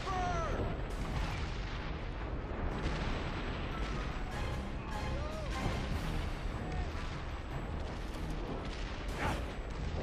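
Gunfire and heavy booms from a sniper battle in the Call of Juarez: Bound in Blood video game, dense and continuous with repeated sharp reports over constant battle noise.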